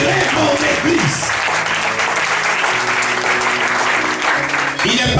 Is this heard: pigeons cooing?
no